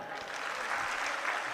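An audience at a talk applauds in a brief, steady burst of clapping, moderately loud and sustained from start to finish.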